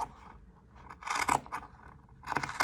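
Scissors snip through yarn with the lower blade running along a wooden circle, giving a few soft scraping cuts in short bursts, close and fairly quiet.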